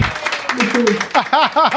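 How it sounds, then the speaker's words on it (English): Scattered hand claps from a small audience at an evening presentation, brief and fairly light, with people talking over and after them. "Round of applause, folks."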